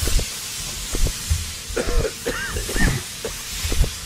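Several rough, raspy coughs from a video game character choking on smoke in the game Half Dead, over a hissing, rumbling background, fairly close, with no speech.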